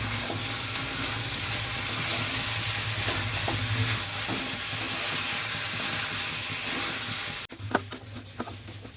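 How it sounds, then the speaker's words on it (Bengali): Mutton sautéed with a spice paste for a mutton and elephant foot yam curry, a strong continuous sizzle with stirring strokes that suddenly cuts out near the end, leaving a few clanks. "এবার আমি দিয়ে দেবো এর মধ্যে কেটে রাখা মশলাটা দিয়ে আবার ভালো করে মিনিট পাঁচের মতন কষে নেব"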